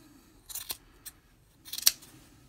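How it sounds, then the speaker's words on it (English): Scissors snip through the loose ends of a pink yarn pom-pom, a few short crisp cuts close up, one brief snip then a quick cluster, with quiet pauses between. "Trim it as short as you want."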